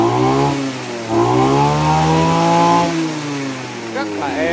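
A Kawasaki TJ 27 brush cutter with a 27cc two-stroke engine runs close by, its pitch rising and falling as the throttle is eased up and back, with a short rev toward the end.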